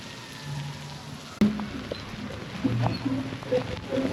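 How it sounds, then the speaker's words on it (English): Steady rain falling in Bali, a continuous near hiss of drops with a sharp knock partway through and some soft background voices. "Balinese rain."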